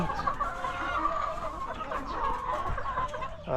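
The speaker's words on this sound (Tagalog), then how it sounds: "ayan mga manok ko" Several chickens cluck and murmur continuously close by, a busy, overlapping chatter of hens with no talking.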